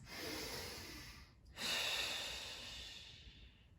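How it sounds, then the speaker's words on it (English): Deep, slow breathing during a Pilates stretch, with a long audible breath followed by another full breath after a brief pause, close and fairly soft, with no talking. "taking those deep, deep breaths"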